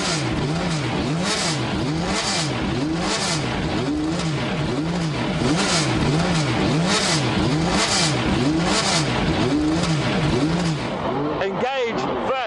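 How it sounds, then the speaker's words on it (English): A Lister Storm V12 race car engine fires up and revs hard, a loud, continuous roar with rhythmic rising and falling revs close by, ending in a sharper climb in pitch. "they all have to be switched on to fire up this wonderful V12 engine"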